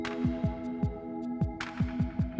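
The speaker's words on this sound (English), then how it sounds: "the Derminator is noisy." A Derminator 2 microneedling pen runs close with a steady motor hum and rapid rhythmic pulsing thumps, quiet and with no talking.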